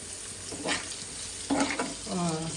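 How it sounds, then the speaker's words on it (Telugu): Sliced onions frying in oil in a pan give a close, steady sizzle, with a couple of louder bursts as they are stirred. "ఉల్లిపాయలు ఎలా వేగినాయో చూద్దాం"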